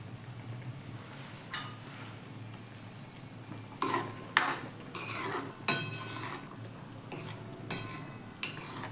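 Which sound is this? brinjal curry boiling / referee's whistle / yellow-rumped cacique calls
brinjal curry boiling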